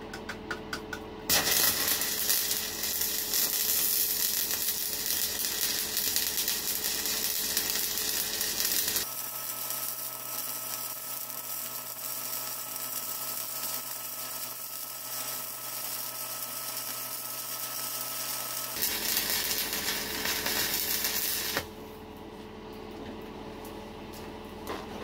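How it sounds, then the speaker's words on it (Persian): Electric arc welding lays flat beads on steel practice plates with weaving hand motions, a steady harsh crackling buzz that runs continuously for about twenty-five seconds and shifts in tone as the arc changes, with no talking. "حالا بریم با کمک پلیت هایی که داریم انواع نوسان دست رو به صورت جوشکاری تخت تست بکنیم"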